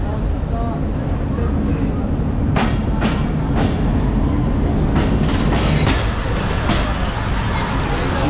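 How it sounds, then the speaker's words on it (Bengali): A Chapainawabganj shuttle train rolls in with a loud, close rumble and rhythmic clatter of wagons, people talking over the steady roar of the arriving cars. "এই যে আমাদের ট্রেন চলে আসছে।"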